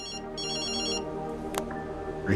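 A mobile phone ringtone plays a bright, repeating electronic melody in two short bursts, fairly close and clear, with no talking over it.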